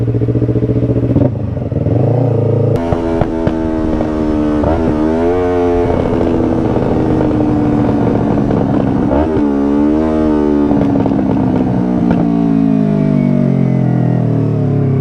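A Yamaha R25 motorcycle engine runs continuously while riding, rising and falling with throttle changes and gear shifts, loud and close with some rattling, including from the chain.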